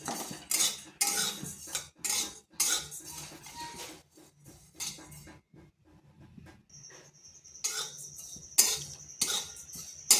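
Spices being dry-roasted and stirred in a pan for raw mango pickle, heard as repeated scraping and clinking of a utensil against the pan in bursts, with quiet gaps between strokes.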